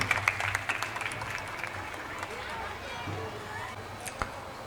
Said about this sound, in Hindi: जोरदार तालियां बजाएं जो दूर तक जाए